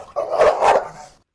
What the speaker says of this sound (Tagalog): dating agresibong aso, talagang nakakatakot.